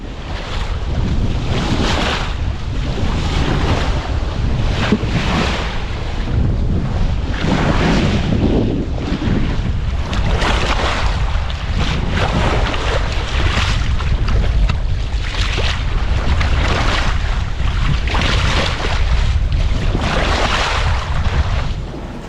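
Loud, continuous rush of wind and breaking waves around a sailboat at sea, with gusty buffeting on the microphone and no voices.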